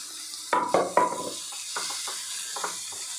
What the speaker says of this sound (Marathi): ही भाजी सुद्धा आपल्याला अगदी 2 ते 3 मिनिटे फक्त परतून घ्यायची आहे